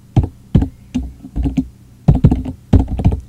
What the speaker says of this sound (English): Hope I'm not typing it that fast, so you should be able to follow it.